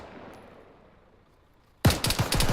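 Sudden burst of loud gunfire from a military shooter game, a quiet lull suddenly broken by several rapid close shots that keep going to the end.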